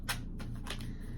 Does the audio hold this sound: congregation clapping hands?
no